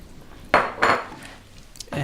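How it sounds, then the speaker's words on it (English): Turnip and carrot pieces tumble into a beef stew pot in a kitchen, making two quick clattering thumps in close succession, close and fairly loud against a quiet background. "And the vegetables can go right into the pot"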